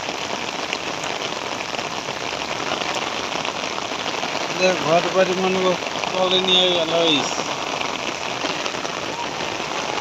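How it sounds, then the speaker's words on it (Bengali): Heavy rain driven by wind pours down in a dense, constant hiss close by, with someone speaking over the downpour for a few seconds in the middle. "দেখেন এই বৃষ্টি আইতেছে, বৃষ্টি পড়তেছে, বাতাস আর সেইরকম বৃষ্টি"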